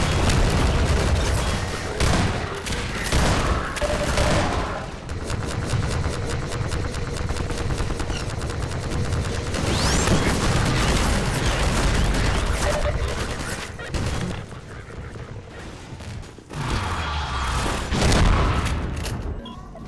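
Heavy enemy gunfire in Half-Life 2 pours in from several directions, dense bursts and booming shots crackling nearly nonstop and loud throughout, with brief lulls, a faint voice under the barrage.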